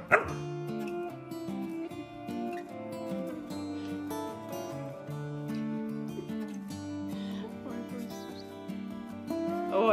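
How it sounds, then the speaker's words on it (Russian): Dogs playing together bark, yip and whimper in short bursts, close and fairly loud, with tonal whines running through most of the stretch. "какие собаки, ой, играют"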